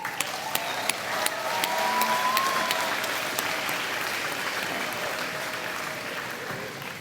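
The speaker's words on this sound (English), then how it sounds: "Another round of applause to all teachers, counselors, and hall advisors," Sustained applause from a graduation ceremony audience fills the room for the whole stretch, dense and steady with a few sharper individual claps near the front, swelling slightly then holding.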